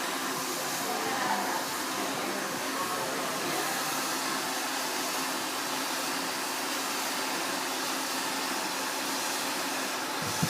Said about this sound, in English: You see how I'm blow drying?